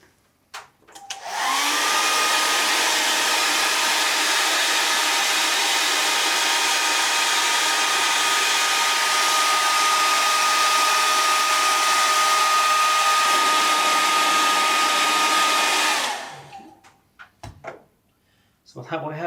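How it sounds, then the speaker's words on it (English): A hair dryer drying an aquatint etching plate blows with a steady, loud roar for about fifteen seconds, then cuts off, followed by brief handling noises. "So off with the hairdryer again"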